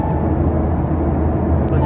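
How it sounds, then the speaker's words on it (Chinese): Steady broadband airplane cabin drone just after boarding, a continuous low rumble and hiss at a constant level with no talking. "我们现在刚上飞机，但是俊辉已经 睡着了。"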